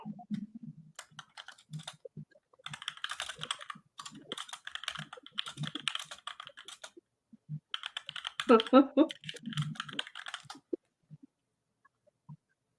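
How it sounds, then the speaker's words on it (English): Someone types on a computer keyboard in quick irregular bursts of close clicking, with pauses between them and a louder flurry near the end. "As he's typing it out and speaking at the same time."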